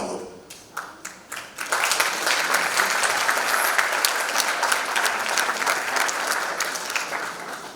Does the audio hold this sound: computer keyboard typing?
no